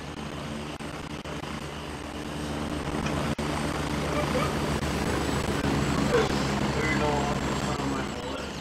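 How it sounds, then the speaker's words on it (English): A military helicopter in the video game Gray Zone Warfare flies by, its steady rotor and engine drone holding loud and constant throughout, with a faint click partway through. "Another chopper."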